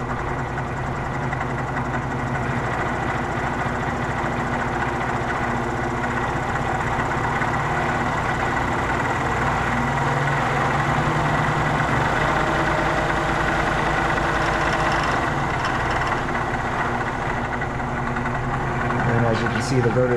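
A Shop Fox W1870 scroll saw runs at a raised speed setting, giving a continuous, even mechanical hum and rattle that holds steady from start to finish, close by.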